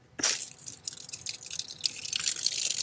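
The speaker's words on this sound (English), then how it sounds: "Using a flathead screwdriver, you're gonna release this valve here," Water rushes and drips out of a sprinkler system valve released with a flathead screwdriver while draining the lines for winter, starting with a sharp burst and continuing as close, uneven splashing trickles.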